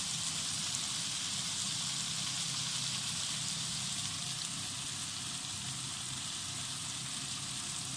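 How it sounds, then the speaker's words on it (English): Hot water from a kettle hits sautéing vegetables in a pan for a Jamaican steam fish dish, producing a steady, bright hiss that holds evenly without a break. "you pour a little bit of water in there"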